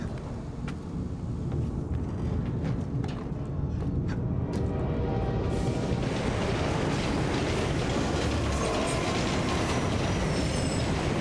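A train passes in the game Assassin's Creed Unity, building from a distant rumble into a loud, close, continuous roar of rolling wagons, with faint metallic wheel squeals on top.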